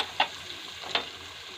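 Chopped garlic frying in oil over low heat for a dhaba-style egg tarka, a quiet, steady sizzle with two brief, sharper scrapes of stirring.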